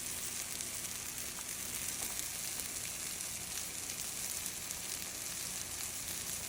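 A Filipino eggplant omelette (tortang talong) fries in a pan with a steady, even sizzle and crackle that carries on close and unbroken the whole time, with no speech.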